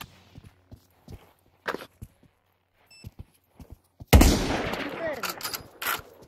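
Gunfire in the video game Pavlov: a few scattered quiet pops and footsteps, then a sudden loud burst of shots with ringing reverberant tail and further cracks, fairly close.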